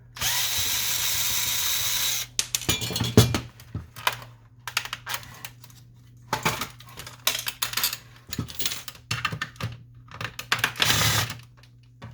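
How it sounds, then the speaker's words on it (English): A power screwdriver whirs in several short bursts, separated by clicks and handling noises, while removing two screws from the formatter board of an Epson XP-800 printer during disassembly. "Now for the formatter, let's remove 2 screws here."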